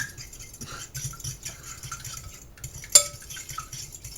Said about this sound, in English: And then just whisk it together. Like that. Lots of whisking.